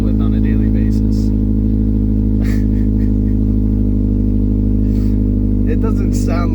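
An engine idles loud and close with a heavy, steady low rumble and a rough, slightly uneven pulse, while a person talks over it.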